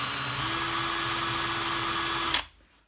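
A TACKLIFE 18V cordless hammer drill-driver with a bit in the chuck spins at steady speed, a loud even whine with a fixed tone, then the trigger is released and the motor cuts off and winds down to silence.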